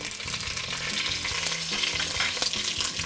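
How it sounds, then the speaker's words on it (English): Sesame oil hitting browning food in a hot pan, a steady, close sizzle and crackle with occasional stirring scrapes throughout, no talking. "at this point, we are going to add 1 tablespoon sesame oil"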